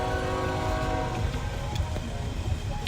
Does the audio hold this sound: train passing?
yes